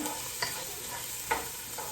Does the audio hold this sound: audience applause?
no